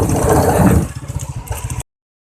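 A new motorcycle engine idles close by, a loud, rough mid-pitched rumble that drops into a steady pulsing putter before cutting off abruptly.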